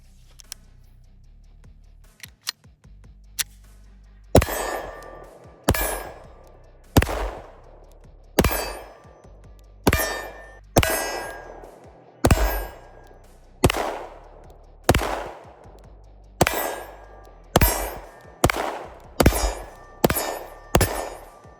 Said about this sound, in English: let's go ahead and shoot another mag.